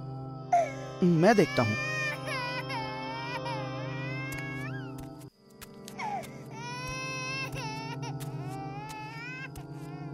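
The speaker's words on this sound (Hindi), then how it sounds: "ये रोने की आवाज कैसी?" Eerie wailing cries like an infant's, drawn out and trembling, rise and fall in the dark of a Hindi horror story. Someone speaks briefly partway through, and the crying carries on steadily afterward.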